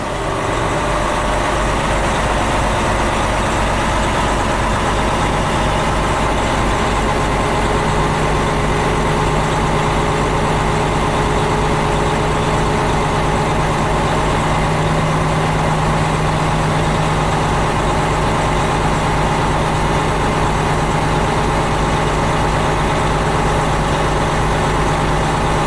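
A truck engine runs at steady raised throttle for building air brake pressure, a continuous loud low drone with a faint hum that holds unchanged throughout.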